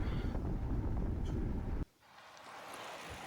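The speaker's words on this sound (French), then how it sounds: "avec un petit vent de face quand même" Strong headwind buffets the microphone during a road race cycling effort at around 45 km/h, a loud rushing roar that cuts off abruptly partway through, followed by quieter, steadier wind noise.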